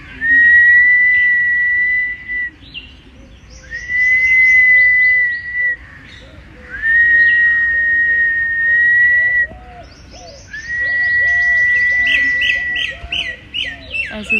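Person whistling to call up the wind in hot weather in Delhi, four long sustained high whistled notes each trailing into short chirpy trills, loud and close, separated by brief pauses.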